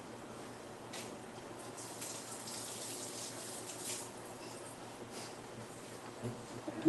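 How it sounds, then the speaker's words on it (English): Tap water runs steadily into a sink as pieces are rinsed under it, a faint, continuous splashing hiss with a few louder spatters. "So we rinse off these pieces."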